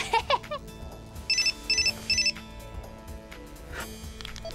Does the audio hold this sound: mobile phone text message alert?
yes